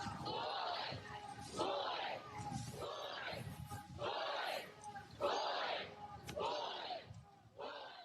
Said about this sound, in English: And then this spontaneous chant.